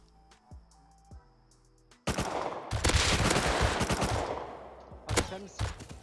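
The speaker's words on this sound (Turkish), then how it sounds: "Ben sıkıyorum şu an adama." Rapid automatic gunfire in the survival game Rust: a quiet stretch of faint clicks, then a loud, sustained burst of dense shots with echoing tails, trailing into a few separate cracks near the end.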